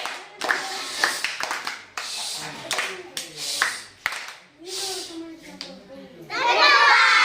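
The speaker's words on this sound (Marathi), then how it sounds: "रॉकेट टाळी. 1 2 3 स्टार्ट." Children in a classroom counting-and-clapping game about the months of the year perform a 'rocket clap', with bursts of hand claps and shouted voices building to a loud, dense rush of clapping at the end.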